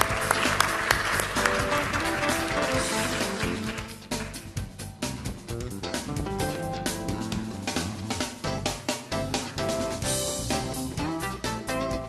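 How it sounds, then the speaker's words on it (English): Audience applause at a business conference on B2B marketing, loud sustained clapping from a full room that fills the whole stretch with dense, steady patter. "Please give them a round of applause."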